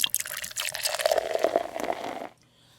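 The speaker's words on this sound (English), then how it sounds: "First, I'm going to pour in my hydrogen peroxide." Hydrogen peroxide poured into a container for an elephant toothpaste science demonstration, a close, steady liquid gush with a rising pitch as it fills, stopping abruptly after about two seconds.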